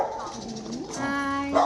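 Several dogs bark and yip briefly with whimpering tones mixed in, fairly close, while a voice talks over them.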